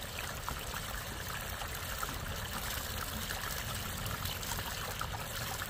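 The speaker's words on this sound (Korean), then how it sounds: "항아리 장독 안으로 물이 떨어져서 둥근 이 장독 표면을 흘러내리는 마치 폭포처럼 말입니다" Water falls into an earthenware jar and spills over its rounded surface like a small waterfall, giving a steady, continuous trickling stream at a moderate, even level throughout.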